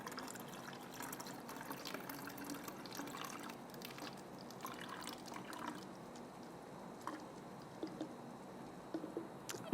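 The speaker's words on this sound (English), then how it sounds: "And just pour it in." Liquid is poured by hand into a container in a kitchen with no funnel, giving a soft, steady trickle with small splashes and drips, fairly quiet throughout.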